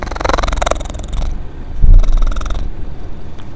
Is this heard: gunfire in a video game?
no